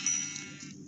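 A Minecraft sheep gives one short, clear bleat, close and alone without talk.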